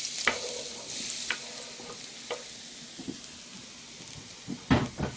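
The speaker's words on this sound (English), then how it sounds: "Frying that up." Soft, steady sizzling of eggplant frying in a hot pan, punctuated by occasional clinks and scrapes of stirring, fairly quiet and close.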